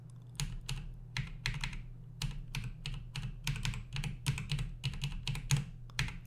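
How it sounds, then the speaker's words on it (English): Computer keyboard clicking in quick, irregular bursts of crisp keystrokes during an XCOM 2 session, steady and moderately near, over a constant low electrical hum with no talking. "Can you guys hear my keyboard clicking?"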